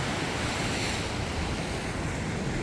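Sea waves crash against large rocks along the Mukho coast at night, a loud continuous roar of surf and churning water with no pauses and no voices.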